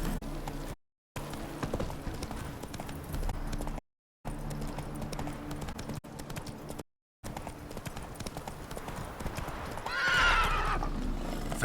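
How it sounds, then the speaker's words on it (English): A horse gallops with steady, rapid clip-clop hoofbeats in The Witcher 3, the sound cutting out briefly several times before a whinny near the end. "Bro, get on the horse."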